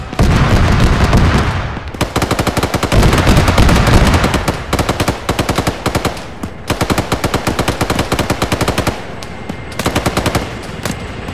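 Sustained automatic gunfire in the military shooter ArmA 3, loud and close, with rapid continuous bursts broken by brief pauses and rolling reports beneath, no talking over it.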